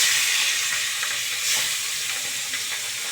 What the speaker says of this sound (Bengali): এখন তো মাছটা ভাজা হবে।